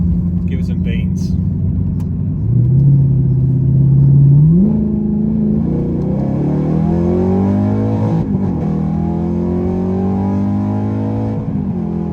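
An Audi R8 fitted with a Quicksilver exhaust revs up, a deep booming drone climbing and falling in pitch as the throttle is blipped, loud and close, with people talking over it.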